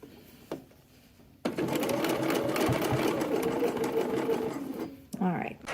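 A sewing machine stitches fabric for a baby headband in a steady, fast mechanical whir lasting several seconds, close and loud, with brief quieter handling sounds before and after.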